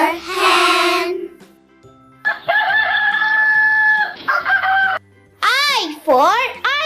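Loud, close chicken calls for a hen in a children's phonics song, with a crowing burst, sustained clucking tones and then rapid warbling cackles, set apart by short gaps.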